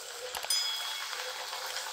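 Bathua poori sizzles as it fries in hot oil, a continuous close crackling hiss with a brief stirring clink near the start and no talking.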